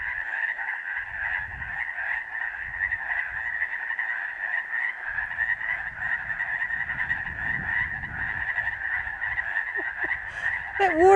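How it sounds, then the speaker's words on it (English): A dense chorus of frogs croaks continuously in chilly water beside a snowy mountain trail, a steady loud trilling with brief rustling and a sharp noise at the very end. "Hope the camera's picking up this frog noise."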